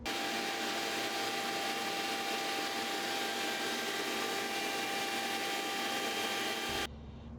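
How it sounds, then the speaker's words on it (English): A Shapeoko 3 CNC router cuts an oval tray with a 1/4 inch flat nose three-flute carbide end mill, giving a loud, steady whine and grinding roar that cuts off abruptly near the end. "Then to cut it out, we're going to use this 1/4 inch flat nose 3-flute carbide end mill"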